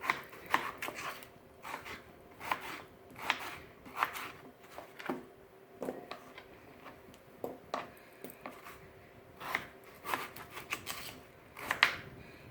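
A knife chops russet potatoes into chunks on a cutting board with quick, irregular clusters of crisp thuds and cuts, close and fairly quiet with no talking.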